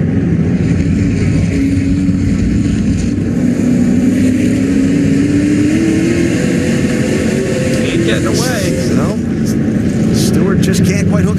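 SRX race cars roaring around Sharon Speedway near the end of a race, a loud continuous engine drone rising in pitch as the field accelerates, with a race commentator talking over it throughout.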